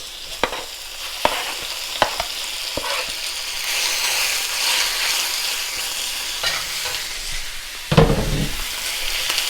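Oil sizzles steadily in a hot, lightly smoking wok while cooking pad Thai, with close clanks and scrapes of stirring scattered throughout and a louder clatter near the end.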